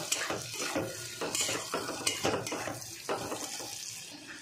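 A fried egg stirred around a pan with a metal utensil: irregular scrapes and light clinks against the pan over a low sizzle, close up with no speech.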